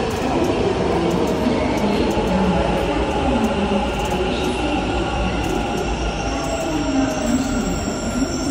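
A metro train in Bangalore rumbles past nearby, loud and continuous, with metallic wheel squeals and rail clatter throughout.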